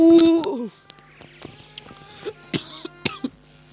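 A single short cough at the start, followed by faint scattered clicks and small noises in a quiet room.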